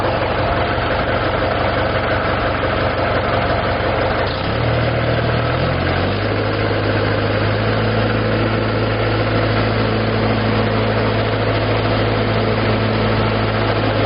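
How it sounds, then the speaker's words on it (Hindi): Tractor engine idling with a steady low drone, then revved to a higher, sustained pitch partway through, loud and close throughout. "अब मैं इसके जो आरपीएम है वो बढ़ा के देखता हूँ"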